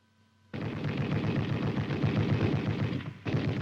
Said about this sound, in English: and the gun is ready to fire